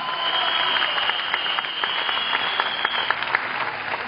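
Audience applause at a business success testimony event on stage, a steady dense wash of clapping that carries on without pause throughout, with no voices standing out.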